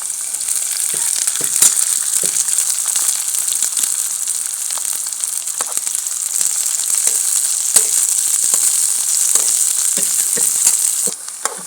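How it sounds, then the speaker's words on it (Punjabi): Capsicum and onion frying in a pan, a loud, continuous sizzle close up with occasional soft stirring scrapes, no talking. "ਲੋ ਹੁਣ ਸ਼ਿਮਲਾ ਮਿਰਚ ਤੇ ਗੰਡਾ ਭੁੱਜ ਗਏ"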